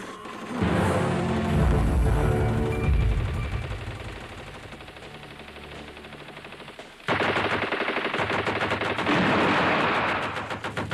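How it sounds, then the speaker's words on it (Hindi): Heavy light machine gun fire in a war drama, a loud sustained stream of rapid shots that eases off, then resumes sharply as a dense, fast rattling burst. "LMG का बहुत भारी फायरिंग आ रहा है"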